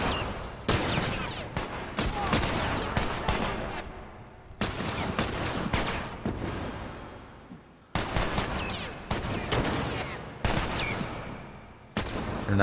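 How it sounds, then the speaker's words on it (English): Bursts of gunfire from teammates shooting enemies in The Last of Us, loud, sharp repeated cracks in clustered volleys separated by brief lulls, close and dominant with little else audible. "If you wait long enough, your teammates here will actually shoot some of these guys."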